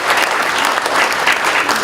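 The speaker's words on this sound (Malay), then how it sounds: "So beri tepukan kepada Naib Chancellor." Loud, dense applause from an audience at an appreciation ceremony, a continuous roar of many hands clapping together without pause.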